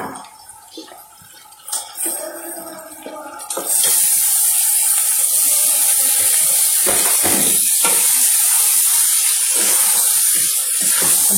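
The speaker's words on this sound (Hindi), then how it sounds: "अब 2 मिनट के लिए इसको भी भूनेंगे तेज आंच पर।" Meat sears over high heat in a pan with whole chillies, a loud steady sizzle that bursts in suddenly after a few seconds of quieter kitchen sounds and clatter.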